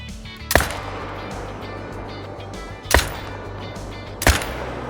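Three single .308 rifle shots in the hunting game Call of the Wild, each a sharp loud crack spaced a couple of seconds apart over a quiet outdoor ambience.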